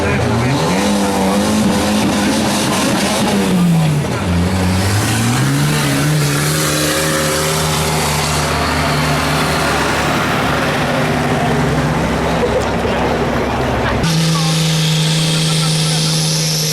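A Case tractor climbing a hill in a tractor hill-pull contest at Kasukkala in 2016, its engine droning loud and strained with shifting pitch throughout, while a commentator talks over it.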